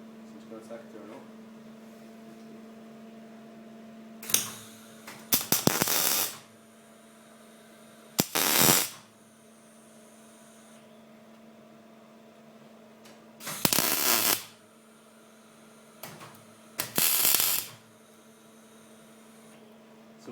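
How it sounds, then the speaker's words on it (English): Short bursts of tack welding join steel pipes for a bicycle frame: four or five sharp, crackling hisses of one to two seconds each, spaced several seconds apart over a steady electrical hum. "So I'm just going to tack it there now."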